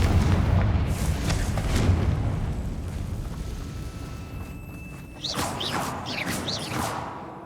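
A Confringo spell explosion in Hogwarts Legacy, a heavy booming rumble and rushing roar that slowly fades, followed by brighter whooshing magical bursts and crackles near the end, loud and with no talking.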